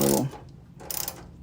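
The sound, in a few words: loosening a bolt on car front suspension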